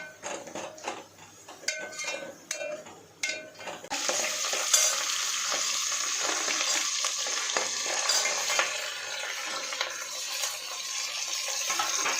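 Onions frying to medium brown for crab curry, quiet scraping stirs at first, then a loud, steady close sizzle with occasional utensil clinks.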